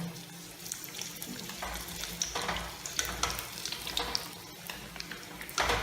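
Egg bajji crackles and sizzles in hot oil, a close, busy frying hiss with brief spikes and low bumps as the pieces are turned over.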